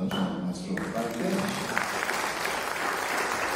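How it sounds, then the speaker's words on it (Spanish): An audience at a youth history event applauds a departing participant, a steady wash of clapping with voices speaking underneath at the start. "vamos a despedir un fuerte aplauso a nuestro parte"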